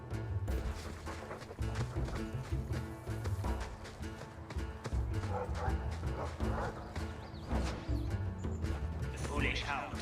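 Barking dogs in a Dragon Age II game scene, repeated woofs mixed into a busy bed of game music and ambient effects, with voices talking over parts of it.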